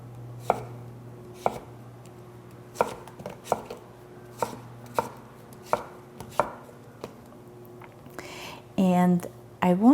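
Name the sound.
knife chopping zucchini on cutting board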